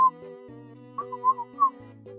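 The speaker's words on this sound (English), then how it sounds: "it's not a proper whistle, so I can't whistle like those people who can do melodies" A person whistles a simple, tuneless sequence of short plain tones that shift between a few pitches, close and clear, with no talk.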